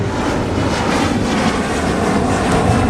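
A Delta airliner arriving from Dublin at MSP airport in winter gives off a loud, steady jet engine roar that fills the whole moment without speech.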